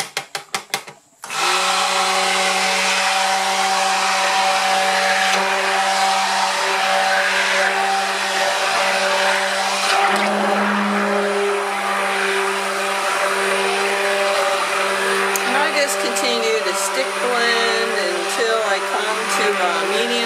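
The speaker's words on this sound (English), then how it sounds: "So excuse the sound, but we need to stick blend now." A stick blender whirs loudly and steadily for most of the span, mixing hot process pine tar and oatmeal soap, after a brief start at the beginning, with pitch shifting slightly as it works the batter.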